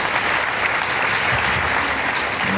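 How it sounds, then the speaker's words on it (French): Steady applause from an audience at a seminar on financial education, a dense, even clapping that runs unbroken from start to finish. "On acclame le Seigneur pour votre sœur."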